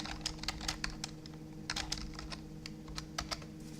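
Rapid tapping of keys on a computer keyboard, close and fairly quiet, in irregular bursts with a steady low hum behind.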